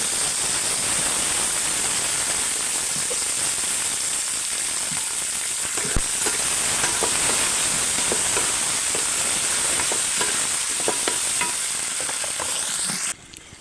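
Oil sizzles and spits steadily in a pan while green chilli chutney is cooked village style, with a continuous loud hiss and scattered pops and stirring scrapes, then cuts off abruptly near the end.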